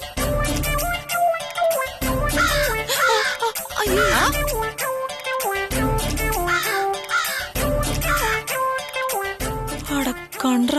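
Crows caw repeatedly in loud, harsh, rhythmic bursts close by, mixed with a talking voice and a busy background of other sounds.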